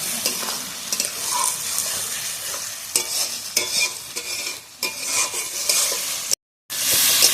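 Rice sautéing in a pan with spices and ghee for fish-head muri ghonto made with fried catla head, steady close sizzling with scraping stirs throughout and a brief gap near the end.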